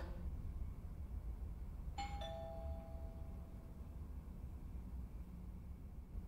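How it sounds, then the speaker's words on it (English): A two-note electronic doorbell chime in a video game rings once, clear and ringing out briefly over a low steady background hum. "I should just ring the doorbell, see if he answers."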